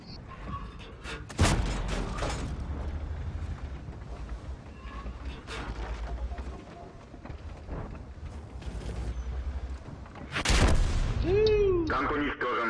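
Tank gunfire in the World of Tanks video game: two heavy, booming cannon blasts, one early and one late, over a continuous rumbling engine and battle din with mechanical creaks, plus a brief rising electronic tone near the end.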